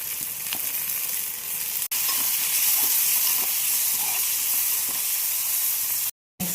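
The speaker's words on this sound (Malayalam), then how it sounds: "കൊടുക്കണം ആവശ്യത്തിന് ഉപ്പിട്ട് നല്ലപോലെ ഇളക്കി കൊടുക്കാം" Onions frying with salt in a pan give a constant close hiss and sizzle, with light clicks of a spoon stirring now and then and one brief cut near the end.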